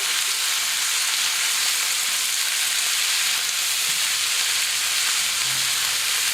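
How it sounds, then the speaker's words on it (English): Carrots and chickpeas cook in a pot, giving a steady, even hiss of frying that holds at moderate loudness throughout, with faint stirring scrapes now and then. "add the carrots and the chickpeas and I'm going to let it cook for another 5 minutes. Give it a stir."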